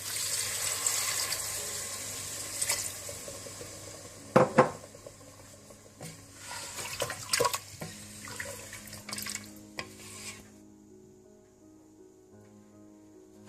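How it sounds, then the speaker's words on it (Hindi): Water pours into a pot of browned meat for nihari, a continuous splashing stream with clinks and knocks of the pot, ending abruptly into near quiet. "इसके बाद इसमें मैं अब पानी ऐड कर दूंगी 3 से 4 गिलास।"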